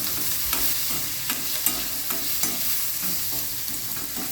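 Ivy gourd, chilies and fenugreek sambharo being stirred in a hot pan, a steady soft sizzle with regular scraping strokes of a spoon, close and moderately quiet with no talk.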